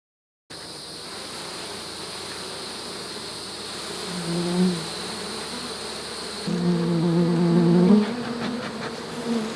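Honey bees buzz steadily around hive boxes during a summer nectar dearth, a dense close drone that swells in pitch and loudness as individual bees fly near, with no talking.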